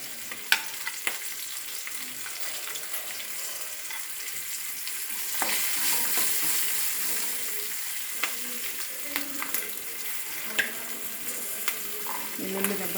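Cumin seeds frying in hot oil for a bottle gourd chutney, a steady close sizzle with soft stirring scrapes and small crackling pops throughout.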